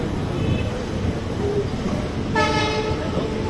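The Rajya Rani Express pulls out of Hapur Junction, its carriages rumbling steadily along the rails with a sustained horn blast sounding midway, heard from on board and fairly loud.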